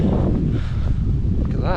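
Wind buffets the microphone beside a drought-hit reservoir at Redmires, a steady low roar rushing across the whole short stretch, loud and close, with no voices.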